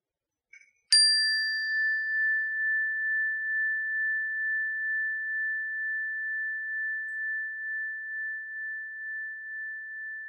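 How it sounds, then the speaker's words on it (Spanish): A single meditation bell is struck once, then rings on with a long, pure, slowly wavering tone that sustains and fades gently in quiet surroundings. "Cuando escuche la campana, vamos a iniciar el ejercicio."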